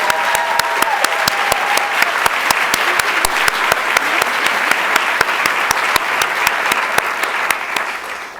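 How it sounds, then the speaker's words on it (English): Sustained, loud applause from a university audience welcoming House Speaker Nancy Pelosi at a graduation dean's lecture, steady dense clapping throughout with a faint tone early on. "please join me again in a round of applause for Speaker Pelosi"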